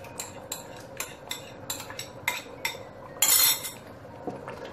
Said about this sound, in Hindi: वो मिक्स करके चनों में ऐड कर देंगे।